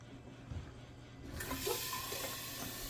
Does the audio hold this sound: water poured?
yes